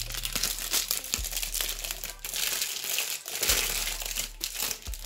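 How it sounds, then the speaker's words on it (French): Stress ball being unwrapped from its plastic packaging, giving steady close crinkling and crumpling of plastic throughout, with a few brief rustling bursts. "il faut que je la déballe, elle est dans son plastique"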